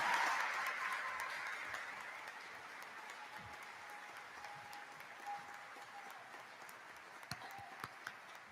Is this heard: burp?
no